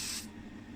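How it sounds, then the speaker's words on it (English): Tamiya light grey fine surface primer sprayed from a can in a brief hissing burst that cuts off, leaving a low hum of a paint booth fan. "Give them all a coat of fine surface primer by Tamiya. This is in the light grey."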